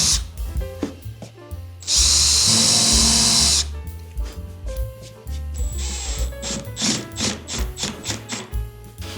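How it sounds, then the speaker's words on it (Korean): A power drill bores pilot holes into plywood as part of building a drawer-style camping kitchen for a car. One sustained loud burst of whirring stands out, with tool handling and ratcheting clicks on either side of it. "요 아래에 있는 합판에다 구멍을 미리 뚫어줘서 합판이 쪼개지지 않게"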